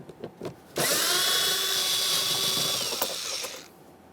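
A cordless power drill runs a 7mm socket on a mounting bolt inside a 2015-2020 Ford F-150 door, a steady high whine lasting about three seconds after a few light clicks, close and loud, with no talk.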